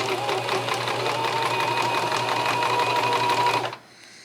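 A sewing machine stitches straps onto a child's apron, running steadily and loudly up close for nearly four seconds before stopping abruptly, leaving quiet room tone.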